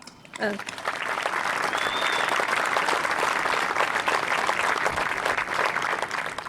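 A crowd applauds the graduating class at the Rio Hondo College Fire Academy graduation, a loud, dense, sustained clapping that swells in after a brief spoken phrase and holds steady, with a whistle or cheer cutting through.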